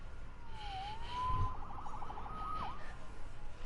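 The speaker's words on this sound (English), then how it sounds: "Saved by the siren." A police siren wails in a Spider-Man video game, one faint rising and falling tone followed by a shorter second sweep over a low background hum.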